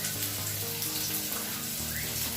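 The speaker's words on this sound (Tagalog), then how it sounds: "lalagyan na natin siya ng sabaw." Broth is poured into a frying pan of cooking fish sarciado, a steady close watery splash and trickle over a low, continuous tonal hum.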